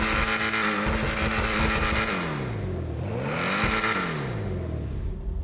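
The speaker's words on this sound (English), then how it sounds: "I'm gonna give it a couple revs, of course." A car engine in a racing video game revs up and down twice, the pitch dropping and climbing again, loud and close.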